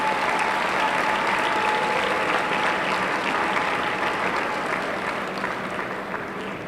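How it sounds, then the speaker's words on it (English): A crowd at a spring commencement and commissioning ceremony gives a sustained round of dense applause that fills the hall and fades slightly toward the end. "let's give them another round of applause"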